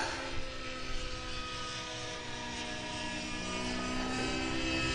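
An F3C radio-controlled model helicopter flies a fast aerobatic loop in a crosswind. Its rotor and engine make a faint, steady droning whine at a distance, with no talk.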